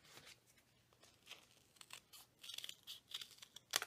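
Paper being folded and creased for a paper snowflake, giving soft irregular crinkling and rustling that builds toward sharper crisp crackles near the end, close up and fairly quiet with no talking.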